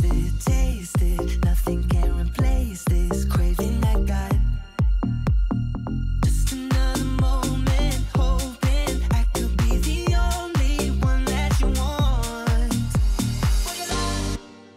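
A breakdown from a remix, with a punchy kick hitting steady beats under a deep bass line and layered lead and backing vocals, loud and continuous apart from a brief drop midway.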